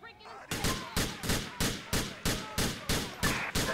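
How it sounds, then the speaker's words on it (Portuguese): Rapid gunfire in a police roleplay video game: about ten loud, evenly spaced shots crack out in a steady rhythm after a brief quieter moment, close and forceful. "Tá estourando tiro aqui"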